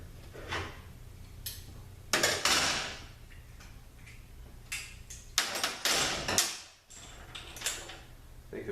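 Oil pan coming off an RL3F01A automatic transmission during teardown: a series of metallic clunks, scrapes and knocks, several louder bursts close by, with a steady low hum underneath.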